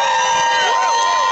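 A crowd cheering and shouting at a contest during an Italian festival in Mississauga's Celebration Square, loud and continuous, with many overlapping voices raised together.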